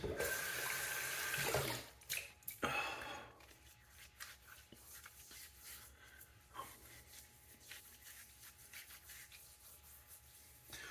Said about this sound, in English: let's do a little rinse, warm water rinse